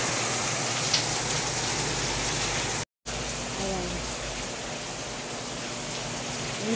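Steady rain pours down in a dense, even hiss throughout during flooding, with a brief cut to silence near the middle before the downpour resumes.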